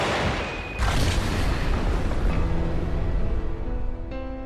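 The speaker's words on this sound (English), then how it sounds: "The cave was demolished with 2 controlled explosions." Two controlled explosions demolishing a cave, heard as a heavy, sudden boom followed by a long, dense rumble, with a second burst near the end, loud and without voices.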